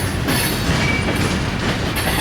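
Union Pacific freight train cars roll steadily past heading into Roseville Yard, California, with a continuous loud rumble and rattling wheels, close by, with no voices.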